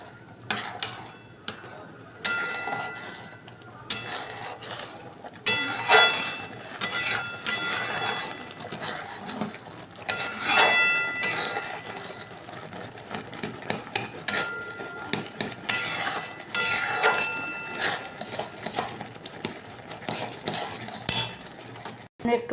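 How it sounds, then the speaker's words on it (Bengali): A spoon stirring semolina in a pan, scraping and clinking against the metal in irregular bursts of knocks and taps over about twenty seconds, with a faint sizzle underneath and no voices. "ভালো করে নেড়ে দিতে হবে যাতে সুজিটাই দলা না পাকিয়ে যায়"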